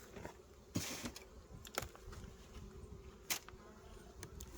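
Honey bees in an opened beehive during a spring syrup feeding give a steady, soft insect buzz that runs throughout, with a few brief clicks and knocks close by and no talking.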